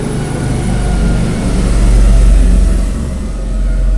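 Aeroplane passing overhead as a steady, loud low roar that swells and fades slightly over a few seconds, heard as background noise indoors with no talking.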